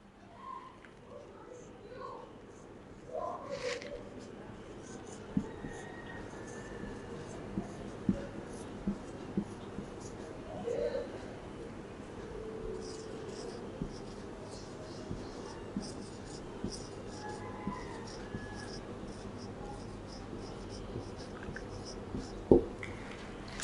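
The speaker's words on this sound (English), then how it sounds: "I will write one sentence in each." Pen or marker writing sentences by hand on a board during a French grammar lesson, a quiet scratching with small taps and strokes in a steady low background.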